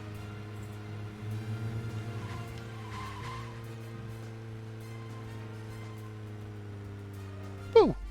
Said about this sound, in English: I've never heard those noises out of cars in this game before